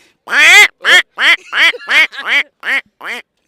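A voice imitates a duck with eight loud, nasal quacks, close and clear, in a quick uneven series with short silences between them.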